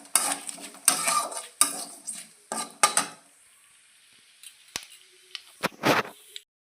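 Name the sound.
stirring bay leaves and dried chillies frying in oil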